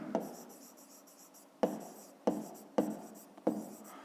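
Pen writing on paper during a fifth-grade maths exercise, several short scratchy strokes in quick bursts, quiet and close, with no talking.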